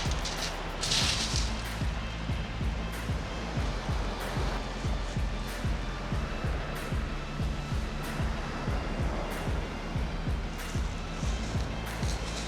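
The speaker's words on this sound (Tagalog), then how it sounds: "Kaya malakas talaga yung alon dito." Strong sea waves wash over a pebble beach on a Philippine coastal road stop, a continuous loud churning roar with repeated rattling surges of stones, heard alone at close range.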